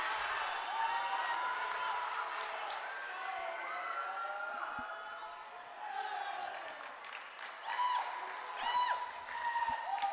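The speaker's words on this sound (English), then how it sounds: "Crowd loves it." Spectators cheer and clap at a men's college volleyball match in a gym, moderately distant, with shoe squeaks on the court and scattered whoops rising toward the end.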